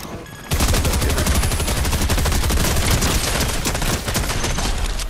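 A video-game turret opens up in a dense, unbroken stream of rapid gunshots, loud and close, after a brief quieter lead-in, and keeps firing for several seconds.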